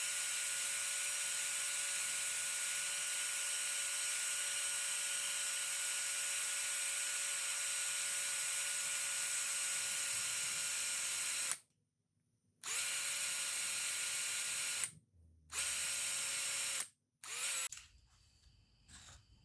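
A power drill spinning a rolled towel to polish a pitted Elsinore fuel valve whines steadily at high speed, then cuts out and restarts in a few short bursts before stopping.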